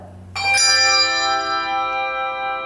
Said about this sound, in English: See, I played the wrong bell. I played an A.